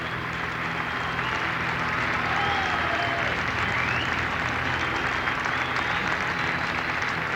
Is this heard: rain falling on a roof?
no